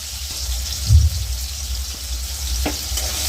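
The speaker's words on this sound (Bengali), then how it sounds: "টমেটোটা আমি এক মিনিটের মতো একটু ভেজে নেবো" Chopped tomato sizzles in hot oil over a spice tempering for a Bengali fish curry, a steady close frying hiss with a brief louder burst near the start as the pieces hit the pan, then a few soft clinks.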